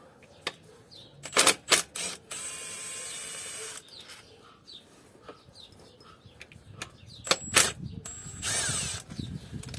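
A ratchet wrench undoing a bolt on a BMW ZF6HP automatic gearbox during an oil change, quick clicking bursts and a sustained buzzing ratchet run, close and loud with small metallic knocks between.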